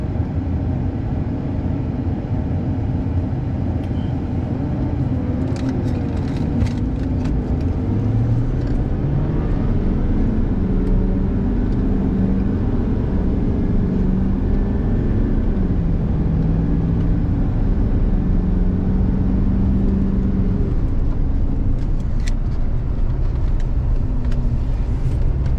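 Race cars rumble at a steady distance as a race starts, engine tones rising and falling in pitch under constant broad crowd-and-track noise, with no talk.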